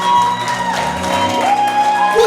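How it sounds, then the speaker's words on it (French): A church revival congregation in Sherbrooke applauding and cheering, loud shouts and whoops mixed with clapping and music in a short lively burst. "Est-ce qu'on peut applaudir pour ma soeur?"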